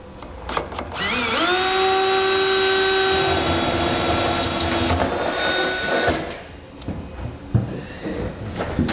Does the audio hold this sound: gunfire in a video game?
no